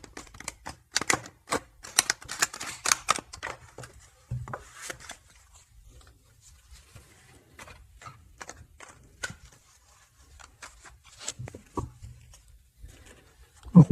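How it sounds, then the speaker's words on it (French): Tarot playing cards are shuffled up close in bursts of rapid crisp clicking and flapping, with quieter gaps and scattered taps between the louder runs. "Je vais faire un petit peu de bruit pour bien mélanger les cartes."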